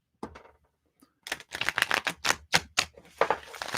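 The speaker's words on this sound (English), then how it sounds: "It's just rearranging the cards is all we're doing." Playing cards riffle and shuffle close up in a bursty rhythm, with a brief pause before a run of crisp flicking bursts, and no talking.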